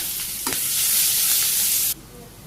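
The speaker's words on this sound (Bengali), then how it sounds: "আবার তেল দিয়ে দিলাম জিরে দিয়ে দিই এই যে পেঁয়াজ কুচি দিলাম কিছু" Chopped onion and cumin seeds hit hot oil in a village kitchen and burst into a loud, bright sizzle with a quick stirring scrape. The sizzle cuts off abruptly after about two seconds.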